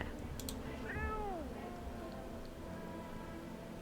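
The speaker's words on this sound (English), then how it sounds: "Pet the cat. Pet the cat. Can I pick up the cat?" A cat meows in the horror video game No I'm Not A Human, with one clear, drawn-out meow at moderate volume over a steady low background hum.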